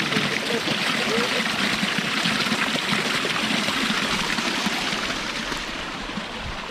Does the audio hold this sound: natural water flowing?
yes